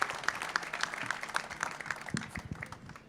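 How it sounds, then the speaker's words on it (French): Audience at an aeronautics start-up session at the Marrakech Airshow applauding in a burst of dense, steady clapping that carries on for about three seconds, a little heavier near the end. "Applaudissez-le."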